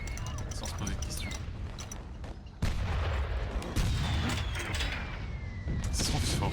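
Cannon fire in the war video game Soldats inconnus: several heavy booming blasts and crashes ring out over continuous battlefield rumble, loud and close, with no one talking over them.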